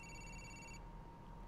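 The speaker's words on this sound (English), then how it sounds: "The phone's ringing." A phone rings in the game GTA IV, one short, faint electronic ring tone that stops abruptly over a quiet background hum.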